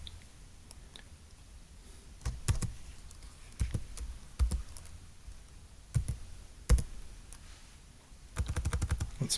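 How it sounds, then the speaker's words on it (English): Someone types on a computer keyboard in irregular bursts of crisp key clicks separated by short pauses, ending in a fast, dense run of keystrokes. "I'm going to type it in again"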